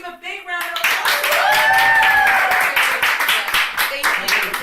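Audience applause on a studio talk show, a steady wash of clapping starting after a short pause and holding loud for several seconds, with a voice speaking over it.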